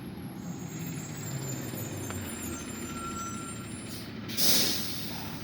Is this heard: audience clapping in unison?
no